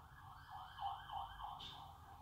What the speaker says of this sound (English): Probably just heard sirens go by